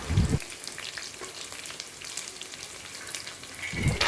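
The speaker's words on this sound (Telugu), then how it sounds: "ఆ తర్వాత కరివేపాకు, ఎండుమిర్చి వేసి బాగా వేపుకోవాలి." Onions, curry leaves and dried red chilies fry in hot oil with a steady sizzle, loud stirring scrapes at the start and end.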